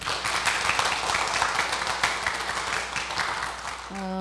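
Church congregation applauding after a hymn at a praise concert in a house church, steady dense clapping throughout, ending with a brief sustained musical tone at the close.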